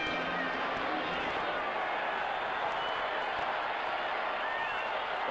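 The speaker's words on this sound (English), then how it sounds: "The crowd at Candlestick is really rolling." A stadium crowd cheers at Candlestick Park during a 1979 NFL game between the Chicago Bears and the San Francisco 49ers, a steady dense roar with no break throughout.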